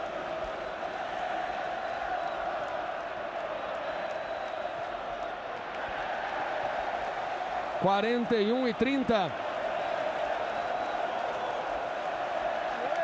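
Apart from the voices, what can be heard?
Corinthians fans making noise at Morumbi stadium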